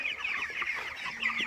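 Broiler chickens on a poultry farm cluck steadily at close range, a dense overlapping flock chorus that continues throughout with no talking.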